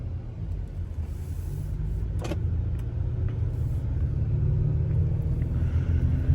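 A 2024 Acura RDX Elite pulling away, its engine hum and road rumble rising steadily from inside the cabin, low and continuous with no speech.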